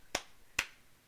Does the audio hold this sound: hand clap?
yes